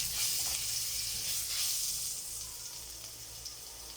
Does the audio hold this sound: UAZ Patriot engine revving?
no